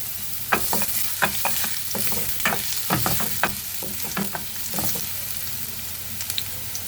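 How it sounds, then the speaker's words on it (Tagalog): Garlic frying in a pan for a spinach dish, with a steady close sizzle throughout and repeated sharp clicks and scrapes of a utensil stirring against the pan. "Magluluto tayo ng bawang."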